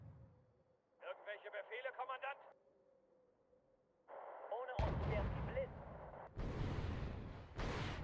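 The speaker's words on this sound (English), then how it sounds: "Hey, you guys were supposed to mount up, not shoot missiles" Missile launches in the Wargame: European Escalation real-time strategy game, heard as several loud, broad bursts of firing and whooshing in the latter half, with radio-style voice chatter earlier in the clip.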